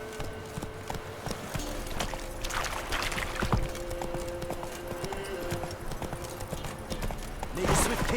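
Horse hooves clip-clopping at a steady trot in The Witcher 3 game world, rhythmic and moderately close, with a broad ambient bed and a brief louder burst near the end.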